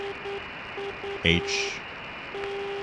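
Morse identifier of a longwave non-directional beacon on 407 kHz, a faint steady tone keyed in short and long beeps through a hiss of radio static, with a brief spoken word breaking in partway.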